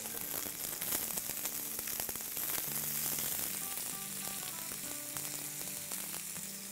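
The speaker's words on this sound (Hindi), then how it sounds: "इस पर हम थोड़ा सा ऑयल डाल के और इस पर हम थोड़ी सी प्याज डालेंगे" Onions frying in oil in a hot pan while galouti kebabs are being cooked. A steady, close sizzle crackles without a break, and faint tonal sounds run underneath it.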